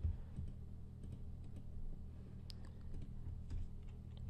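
Computer keyboard keys click in scattered, uneven bursts as code is typed, quiet and close with no talk.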